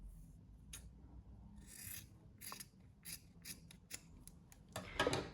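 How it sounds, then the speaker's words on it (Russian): Scissors snip off excess velvet at the corners of a fabric-covered box, giving a series of quiet, crisp cuts in irregular bursts against a soft background hum. "И теперь вот так лишнее подрежу."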